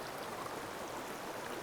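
A clear mountain stream flows past in autumn, a steady, even wash of water noise with no breaks, soft and fairly distant, with no voices.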